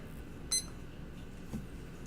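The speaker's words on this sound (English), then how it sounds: "I'm going to start the timer" A timer gives one short, high electronic beep as it starts, close and clear over a quiet room, followed a second later by a fainter blip.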